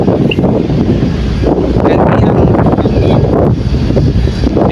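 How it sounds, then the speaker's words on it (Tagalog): Strong wind buffets a handheld microphone on an exposed high point in Palawan, a loud continuous roaring rumble with gusty swells, close and unbroken for several seconds. "Sobrang hangin."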